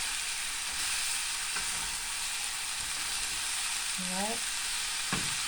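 Noodles and broccoli being stir-fried in a hot pan, a steady loud sizzle throughout with occasional stirring scrapes; a voice briefly speaks once.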